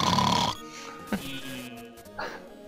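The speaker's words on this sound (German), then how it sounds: "Da wird noch geschnarcht." Goblin enemies snore in the background of the Secret of Mana video game, a short burst of low, rough snoring at the start followed by fainter snorts and synthesized game music.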